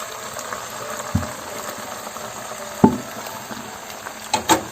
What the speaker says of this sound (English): And I'm going to mix it very thoroughly.